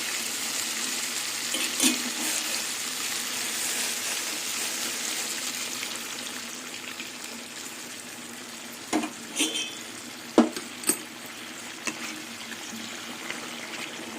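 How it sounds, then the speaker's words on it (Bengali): Hot water poured into a pan of browned chicken curry, a steady soft hiss of cooking with a few sharp splashing bursts and clinks near the end, close and moderately loud, no talk. "এবার জল গরমই দিয়ে দেবো"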